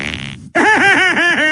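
A comic fart sound effect plays loudly and up close, a long buzzing, wobbling blast after a brief sputter, standing alone without talk.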